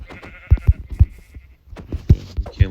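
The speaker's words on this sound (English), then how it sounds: "we can't let the sheep go" Sheep bleat in the video game Minecraft, several short bleats in succession, close and fairly loud with no talk over them.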